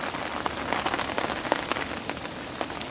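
Rain falls steadily during a winter carp fishing session, a dense close patter of drops striking a nearby surface, with occasional louder individual taps and no voices.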